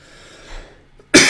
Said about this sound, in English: All of a sudden, I got a cough now.